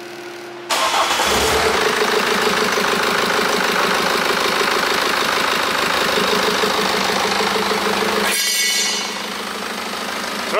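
BMW 520d F10 diesel engine idling cold with a rough, uneven running note, starting up after a brief silence and holding a steady, loud, close rumble with rhythmic knock-like pulses, easing slightly near the end.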